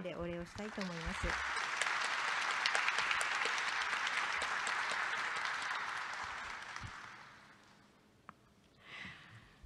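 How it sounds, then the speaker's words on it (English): Sustained applause from a forum audience for a panel at Tourism Expo Japan 2020, steady clapping for several seconds that fades out, with a brief voice near the start. "could you please join me in giving a round of applause to our distinguished panel today?"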